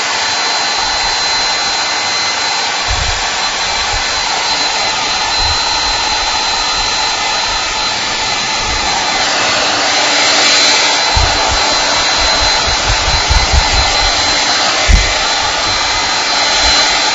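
A hair dryer blows steadily and loudly at close range, a continuous broadband whoosh with a faint high whine, running without a break while a few low bumps and handling knocks sound beneath it toward the end.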